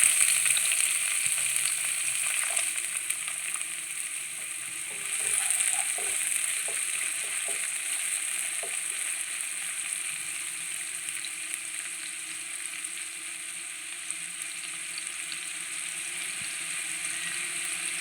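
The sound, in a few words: shallots frying in hot oil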